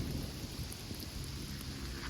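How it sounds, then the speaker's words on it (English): Steady rain during a thunderstorm in Fairbanks, Alaska, a continuous broadband wash with low rumbling underneath, no talking. "in Fairbanks, thunderstorm and raining"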